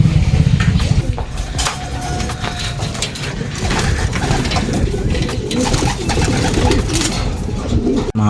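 Racing pigeons coo continuously and close by as they come home from a training flight, a dense, steady stream of low throaty calls with faint background rustle and no talk.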